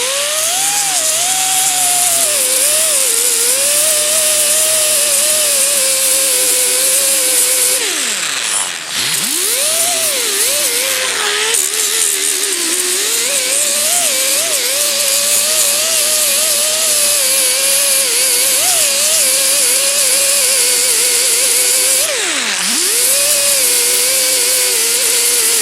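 A power tool's grinding wheel whines loudly and steadily against a Camaro door panel, its pitch dipping sharply twice as the wheel bogs under pressure before spinning back up, heard close and alone.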